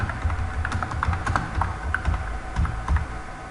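Fast, steady typing on a computer keyboard while Python code is written. The key clicks are close and even, over a low room rumble.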